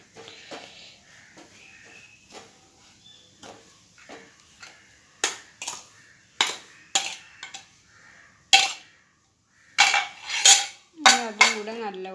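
Roasted rice tipped into a pan and mixed for an old-style Kerala sweet: scattered metallic spoon clinks and scrapes, sparse at first, then sharper and louder strikes toward the end.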